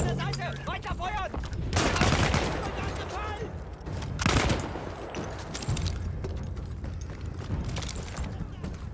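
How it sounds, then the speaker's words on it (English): Battlefield 1 combat rattles with bursts of gunfire and heavy artillery booms, loud rolling blasts around two and four seconds, while voices shout commands in German beneath the clatter. "so much artillery"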